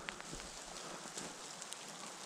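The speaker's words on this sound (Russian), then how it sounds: "моросит дождь и сразу же замерзает" Light, steady drizzle patters softly on a surface beside a lake, freezing as it falls, a fine continuous hiss with scattered faint drops, no voices.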